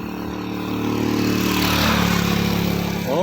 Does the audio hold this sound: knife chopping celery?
no